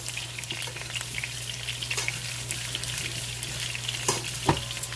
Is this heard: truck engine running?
no